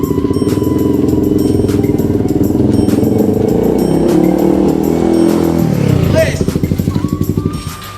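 A motorcycle engine revs loudly and steadily close by on a street, with a rapid throbbing pulse, before the engine noise drops away near the end.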